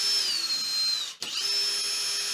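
A power driver whines at high pitch while backing out T27 Torx bolts from a Jeep Grand Cherokee WK2 door latch, dropping out for a split second before spinning up again, close and steady.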